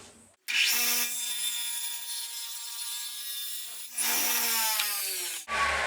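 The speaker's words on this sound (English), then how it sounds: "Run the saw through them all at one time." A power saw rips through wood in two long, loud passes with a brief pause between, whining steadily as it cuts, then cuts off.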